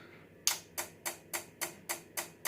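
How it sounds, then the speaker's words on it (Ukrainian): Relay clicking inside a faulty Stark solar inverter on a repair bench, a steady series of eight crisp, evenly spaced clicks about three per second, close and fairly quiet with no talk. "Щолкає, клацає релюшка."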